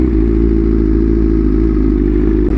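Motorcycle ride with a steady, loud mid-pitched engine drone running throughout, with a faint clatter near the end and no talking.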